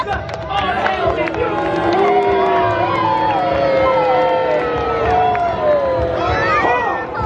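A dense crowd at a Warwick Castle show cheers and shouts for the Duke, a continuous loud roar of many voices with overlapping yells, while a few individual voices rise above the babble.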